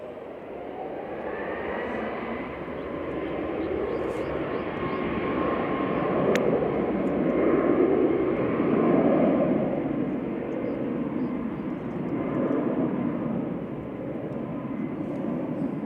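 A Boeing 737 Max 8200 jet at Manchester Airport rumbles in a steady, fairly distant engine roar that swells slightly midway and holds throughout, with no voices.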